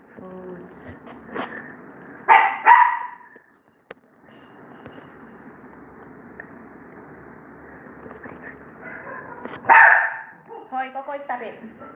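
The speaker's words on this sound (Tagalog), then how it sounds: "Maingay yung aso." A dog barks in two loud bursts, a pair of sharp barks early and another cluster later, over a steady background hum with faint talking.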